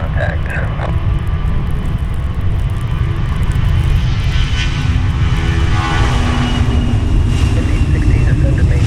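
An airliner takes off during a winter storm at Cleveland Hopkins airport. A loud, steady engine roar and rumble fills the clip, with voices faintly audible underneath.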